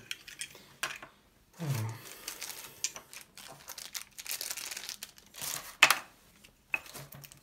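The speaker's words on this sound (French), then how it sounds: "Voilà, on va tous les déballer." Numbered plastic-packed parts of a sixth-scale Star Wars Han Solo in carbonite figure being unwrapped, with close, irregular crinkles, snaps and small clicks of plastic packaging, rising and pausing in uneven bursts.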